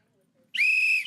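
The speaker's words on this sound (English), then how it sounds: "Where's my whistle? Blow the whistle." One sharp, sustained blast of a referee-style whistle, shrill and close, cutting in after a brief quiet stretch and holding for about half a second before stopping.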